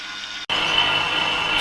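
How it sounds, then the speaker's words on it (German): A dough kneading machine switches on and runs at slow speed working flatbread dough, a steady broadband mechanical whir with a faint tonal hum, starting abruptly after a brief quiet pause and continuing evenly and close. "das Ganze kneten wir jetzt auf langsamer Stufe ungefähr 10 Minuten durch, bis es einen schönen glatten Teig ergibt"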